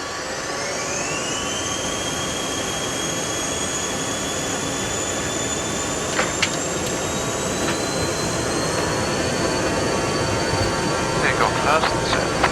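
Aegean Avro RJ100 jet engines at takeoff, heard from the cockpit as a steady, loud broadband roar with rising whine tones that climb and then hold, and a few faint clicks near the end.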